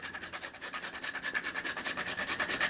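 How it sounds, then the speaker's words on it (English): Fresh whole nutmeg scraped on a grater in a home kitchen: a quick, steady run of rhythmic rasping strokes, about eight per second, close and fairly quiet with no talking. "we're going to scrape some of that nutmeg off in it"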